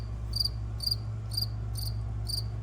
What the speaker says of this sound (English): That is an actual cricket.